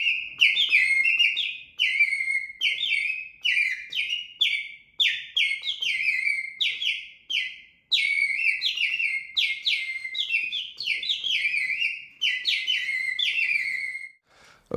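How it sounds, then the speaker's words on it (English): A handcrafted water bird whistle bought at a fair, played up close with bright warbling trills in quick repeated bursts, separated by brief pauses and with no other sound. "I'm going to use this handcrafted instrument that we bought on a fair, that it's called a bird whistle"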